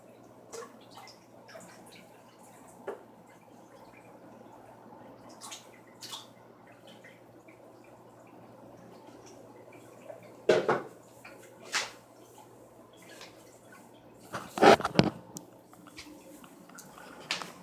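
Parrotfish and water are poured into a home aquarium, with a few sharp splashes and sloshes standing out against a long, quiet, faintly humming background.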